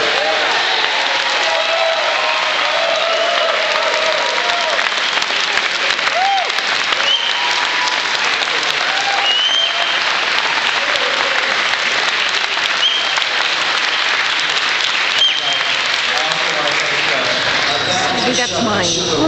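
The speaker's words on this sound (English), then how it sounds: "let's give our chair a round of applause" Audience at a city council hearing on the writers' strike applauding the council chair, dense sustained clapping from a large room that holds steady for many seconds, with faint voices mixed in.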